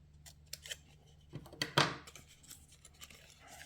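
Scissors snip through paper while cutting out panels for a small DIY craft mug, a few quiet close cuts and rustles with one sharper slicing burst near the middle.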